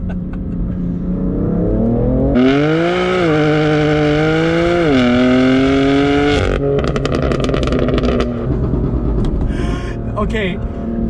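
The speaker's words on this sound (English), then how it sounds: "you have like those burbles and backfires" A tuned BMW F80 M3 Competition Pack with a Bootmod3 tune revs loudly, and its exhaust burbles, then crackles and pops in a rapid series of backfires close by. A person talks over the engine throughout.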